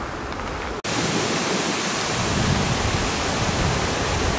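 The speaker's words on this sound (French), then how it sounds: "on entend le grondement de l'eau" Loud, continuous roar of rushing water at a lock on the Canal de Nantes à Brest near Port Launay, a dense broadband wash that cuts out for an instant near the start and then carries on unbroken.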